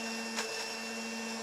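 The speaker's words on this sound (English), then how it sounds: "if you're working with a high-powered blender, it probably won't take quite as long to get smooth" A high-powered blender runs steadily on breakfast ingredients, giving a constant close motor whine with a brief surge partway through and no talk over it.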